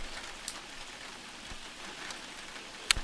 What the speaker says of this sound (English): City of Novopolimus on a rainy winter night.